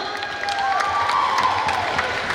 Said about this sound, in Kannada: ನಮ್ಮ ಡಾನ್ಸ್ ಟೀಮು ಡಾನ್ಸರ್ಸ್ ಅವರಿಗೆ ಒಂದು ದೊಡ್ಡ ಚಪ್ಪಾಳೆ ಬರಬೇಕು